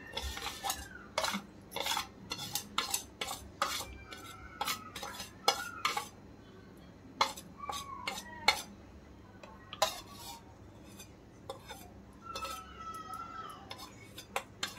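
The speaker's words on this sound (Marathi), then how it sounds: "आता याला आपण मिक्स करूया" A spoon stirring Chinese Manchurian ingredients in a bowl: repeated clinks and scrapes of metal on the dish in uneven bursts, close and moderately loud, with faint roosters crowing in the background.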